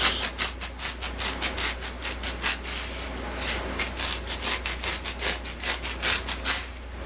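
A blade saws back and forth through a foam pool noodle, making a steady run of quick, close scratchy strokes with a faint hum underneath.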